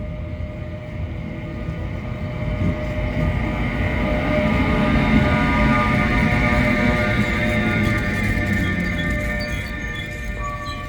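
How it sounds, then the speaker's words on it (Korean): A train rumbles steadily into a station, a dense low roar with faint metallic squeals rising and holding throughout, fairly loud and near. "그래서 지금 기차가 들어오고 있네요."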